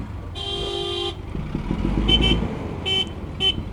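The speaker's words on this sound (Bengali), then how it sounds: "হর্নের সাউন্ডটা চেঞ্জ হয়ে গেছে।" Several short honks of a Hero Xtreme motorcycle horn with a changed sound after an update, one longer blast followed by quick paired toots, over a low idling engine rumble.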